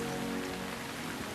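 Rain falls steadily in a brief, even hiss of drops at moderate loudness, with no voices.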